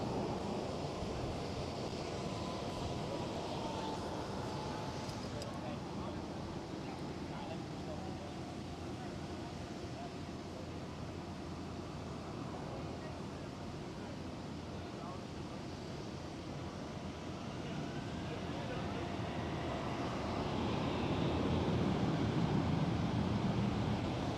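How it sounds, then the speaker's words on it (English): KLM Airbus A330 taking off from runway 24 at Amsterdam Schiphol, a distant steady engine roar mixed with wind noise that swells louder toward the end, while a person talks now and then. "Alright, KLM A330 is lining up on runway 24."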